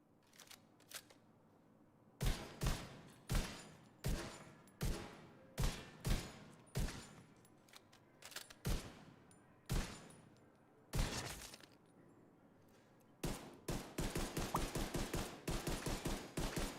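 Gunfire in the video game The Division 2, loud single shots fired at a steady rhythm, then a pause, then a rapid close burst of shots near the end.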